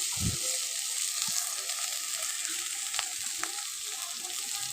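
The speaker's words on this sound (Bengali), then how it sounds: "এবার কড়াইতে সর্ষের তেল গরম করে নিয়ে প্রথমে বীজগুলো দিয়ে দিলাম" Jackfruit seeds crackle and sizzle in hot mustard oil in a wok, a steady close frying hiss with a few sharp pops and spatters.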